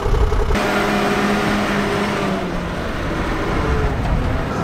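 A car engine hums loudly at close range as the driver shifts into reverse, a steady drone with a low rising tone and a sharp change early on, no speech over it.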